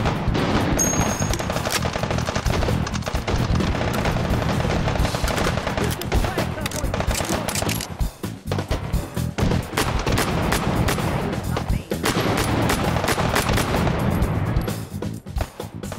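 Dense, sustained automatic gunfire from the VR shooting game Hot Dogs, Horseshoes & Hand Grenades, loud and continuous with rapid bursts and heavy shots running nearly the whole time, briefly thinning around the middle before resuming.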